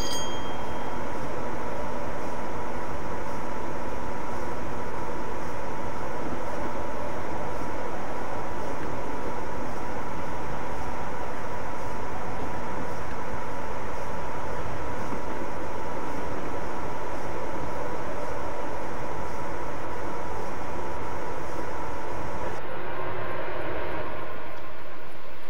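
A train rumbles steadily in the Train Simulator 2014 game on the West Coast Main Line over Shap, a continuous close drone that shifts slightly near the end, with no talking.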